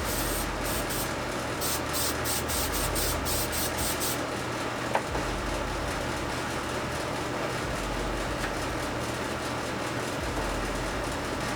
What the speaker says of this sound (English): I'm also going to try a super light hit of some spray tack just to help set the edges down a little bit more.